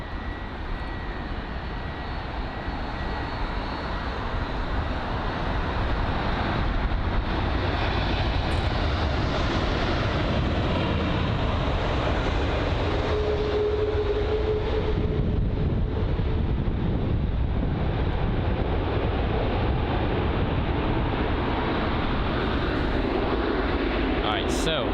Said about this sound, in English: Very loud reverse thrust on board that 777.